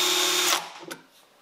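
A Bosch power drill whines loudly as it drives a screw into wood, then spins down and stops, leaving a brief faint clatter.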